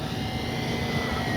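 Dynam Beaver V2 RC airplane coming in to land with flaps down, a steady buzzing electric motor and propeller drone, fairly close and continuous.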